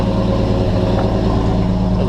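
An S160 engine idles on its own right after a carburetor install, choke partly out, in a steady, close, low mechanical drone with no voices.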